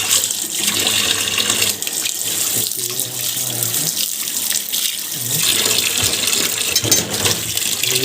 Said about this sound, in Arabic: هغسل بس الاول المانجا تمام